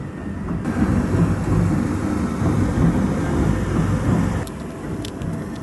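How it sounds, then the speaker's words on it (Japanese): Taiko drums echo from a distance across the Aomori bay waterfront near the Hakkoda-maru at dusk, a steady low rumbling roll that stays fairly loud and continuous throughout, with no talk over it. "太鼓が響きますね。"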